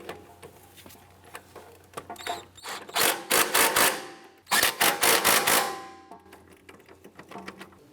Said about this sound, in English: Go ahead and tighten these bolts down.